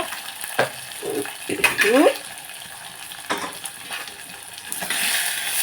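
Onions with turmeric cook in a pan, giving a soft sizzle broken by scraping stirs and a few metallic clinks of a utensil against the pan, with a louder hiss toward the end.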